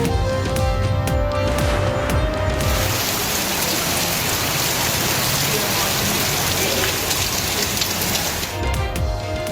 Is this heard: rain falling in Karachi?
yes